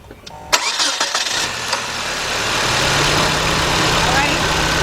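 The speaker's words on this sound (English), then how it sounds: "we're ready to start the car" A 1993 Nissan Altima with a 2.4 engine, one that stalls when hot, cranks briefly and starts, then settles into a steady, loud idle.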